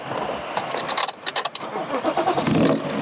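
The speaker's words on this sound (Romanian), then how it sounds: "A murit motorul." An old, cheap BMW car engine sputters and cuts out up close, with a rough rush of mechanical noise breaking into uneven bursts before it dies.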